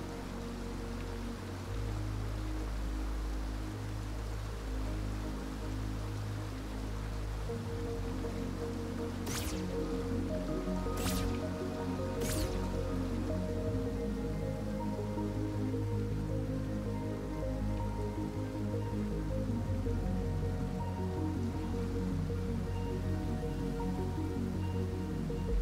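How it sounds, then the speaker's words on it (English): Waterfall in the video game Tunic splashes in a steady, even wash of falling water, joined by three brief sharp high chimes partway through, with no voices. "let's take a close look at this waterfall"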